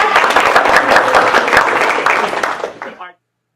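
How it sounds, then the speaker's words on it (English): A room full of people breaks into a loud round of applause, dense and steady for about three seconds, then stops abruptly. "nice round of applause to Pam."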